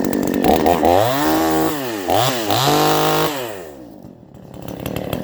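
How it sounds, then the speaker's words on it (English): A Radley 52cc gas chainsaw with a 20-inch bar runs loud and close, its engine revving up and down in sweeping pitch changes before dropping toward idle. "I just picked up a Radley 52cc 20-inch bar chainsaw from Home Hardware"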